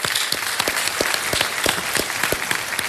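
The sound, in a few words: applause for a quiz show contestant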